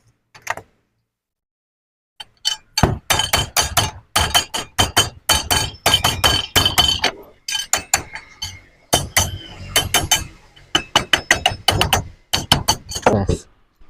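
A nail is hammered into a wall to mark a light position during electrical line work in a flat, with a long run of sharp, close metallic blows in quick rhythmic bursts and brief pauses between them.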